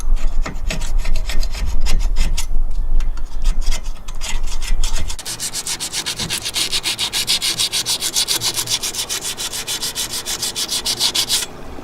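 Someone sands and scrubs the underside of a boat part aboard the liveaboard sailboat Willow. The steady, loud abrasive rubbing is close, with a coarser stretch first and then a brighter, even back-and-forth scraping, and no voices.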